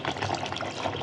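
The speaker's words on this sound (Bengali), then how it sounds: "আর জল দিয়ে দিই" Water poured into a pot of browned, fried-down beef bhuna, a brief steady splashing gush heard close up with no talking.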